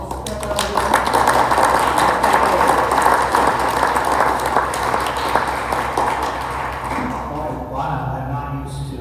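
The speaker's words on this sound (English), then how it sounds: "give a huge round of applause for Carl" An audience at a public archaeology lecture on the peopling of the Americas applauds the speaker with sustained, dense clapping that holds for several seconds before tapering off, with a voice audible near the end.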